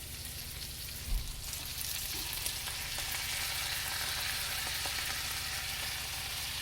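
Half a large head of cabbage frying in a skillet, a continuous close sizzle with a brief clatter early on as it goes into the pan, no talking.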